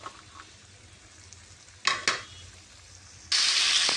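Chopped tomato, coriander leaves, green chilli and onion drop into a hot frying pan, with a brief stirring scrape before the loud sizzle bursts up and holds steady at the end.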